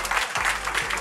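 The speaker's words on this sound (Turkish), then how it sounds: "Alkışlayın bir kendinizi." Quiz night audience clapping for themselves, a short burst of close, dense applause from a small crowd lasting about a second.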